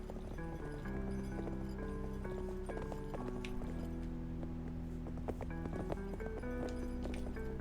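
Steady hooves of a horse clip-clop at a walking pace in Cowboy Life Simulator, up close over a background of sustained tonal music, with no talking.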